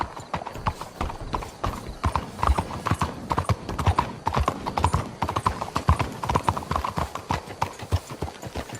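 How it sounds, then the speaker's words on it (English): Horses' hooves clip-clop steadily in the Red Dead Redemption 2 game, a loud, continuous rhythmic clatter with occasional snorts and no talk. "Let's hitch the horses up ahead."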